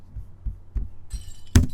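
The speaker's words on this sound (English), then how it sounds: "Smash away with your trusty knife. There's all their expensive vases." Vases being smashed with a knife in Resident Evil Village, a few soft thuds building to a sharp glassy crash and clinking shatter near the end, close and brief.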